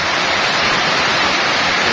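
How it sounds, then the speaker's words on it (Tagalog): Heavy rain, the first downpour of May in a rural farming area, a loud steady roaring hiss without pause, close and continuous. "Malakas ang unang ulan ng Mayo"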